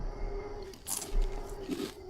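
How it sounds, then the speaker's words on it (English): A low, rumbling big-cat roar in the video game Green Hell, fairly faint, over a steady background hum with brief crackling noise. "Oh, that sounds like a cat."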